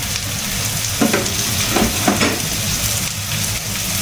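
Soaked spices for mutton pulao sizzle loudly in a hot pan, a steady crackling hiss broken by a few clinks and scrapes of stirring.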